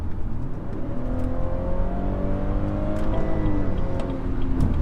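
A Stage 1 tuned BMW 440i in comfort mode pulls hard from 1,400 RPM, its turbocharged engine a loud, steady in-cabin drone with harmonics climbing smoothly over about five seconds, no voices.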